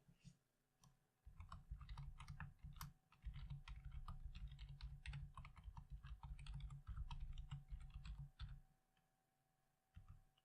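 Computer keyboard typed on while filling in a web form, bursts of rapid close key clicks with brief pauses between, quiet and clear.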